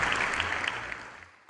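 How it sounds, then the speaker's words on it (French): A church audience at the opening of a Santa Marta gathering claps for the brothers and sisters, a dense burst of applause that starts full and thins out toward the end. No one speaks over it. "Un grand applaudissement pour nos frères et sœurs"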